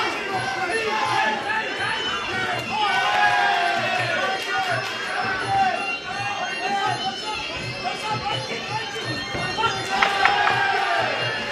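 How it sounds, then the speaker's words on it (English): Packed house at a Muay Thai fight night at the Red Scooter, crowd shouting and cheering steadily around the ring, dense and continuous, with a commentator's voice running over it. "The crowd absolutely getting into this one"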